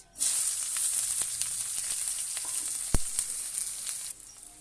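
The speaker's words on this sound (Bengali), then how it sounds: "পেঁয়াজটা ভাজা হয়ে এসেছে" Onions sizzle steadily in hot oil with bay leaf, dried chilli and cumin while cooking leg and liver meat, a loud, close, continuous hiss that cuts off near the end, broken by one sharp knock.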